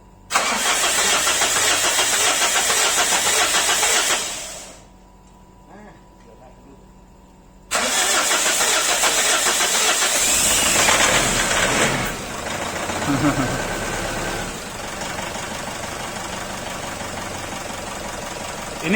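A used Pajero that worked at a mining site is cranked with its starter, a loud steady engine roar that cuts out briefly, then returns running rougher, with a voice talking over it.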